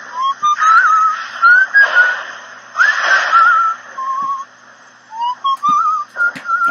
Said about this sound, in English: Okay, whistling.